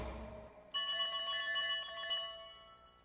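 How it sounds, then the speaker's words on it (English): A telephone rings for a call-in segment on a comedy podcast, a bright electronic ringtone that starts after a short lower tone and keeps sounding steadily, alone and close. "We'll be calling James."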